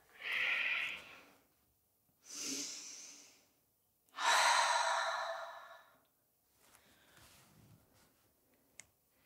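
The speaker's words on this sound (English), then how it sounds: "Breathe in. Breathe out." Deep slow breaths in and out, three long airy exhalations and inhalations separated by brief pauses, close and clear, followed by a softer quieter breath.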